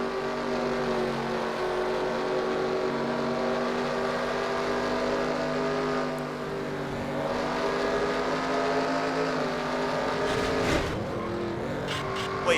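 A Ford Mustang race car in a racing video game, at Watkins Glen, holds a steady loud engine drone that drops and changes pitch as the driver lifts off the throttle, with clattering bursts near the end.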